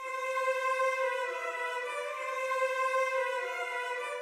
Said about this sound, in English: So we start with this lead cello sound.